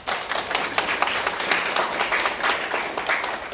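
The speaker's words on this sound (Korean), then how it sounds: "다시 한번 안 오신 분들위해서 박수 한번 부탁드립니다" Audience applause at a Korean women's veterans and NGO rally, about 120 attendees, dense steady clapping from many hands throughout, fairly close and even in level with no break.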